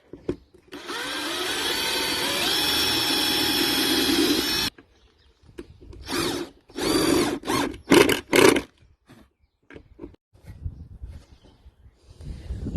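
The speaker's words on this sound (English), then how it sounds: "Just going to pre-drill it." A power drill whines steadily for about four seconds while pre-drilling wood, then runs in several short bursts before going quiet, close by.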